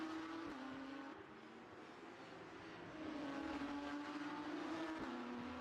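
Porsche 992 GT3 race cars accelerate hard on the Valencia street circuit, heard as a faint, steady engine drone whose pitch climbs through the gears with brief shift dips, and no voices.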